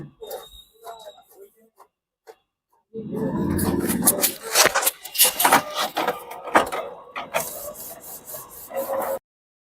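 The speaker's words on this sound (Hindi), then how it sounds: "हमारी प्रिंट आ रही है। ये प्रिंट आ चुकी है।" A card printer prints a plastic ID card: after quiet handling, a close mechanical rasping and whirring starts abruptly and runs for several seconds with rubbing and clicking bursts before stopping.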